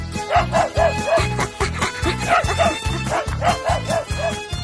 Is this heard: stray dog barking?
yes